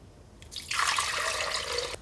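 Water poured into a kitchen blender for a sweet soy sauce base, a short splashing pour of about a second that starts abruptly and cuts off cleanly, heard alone in a quiet room.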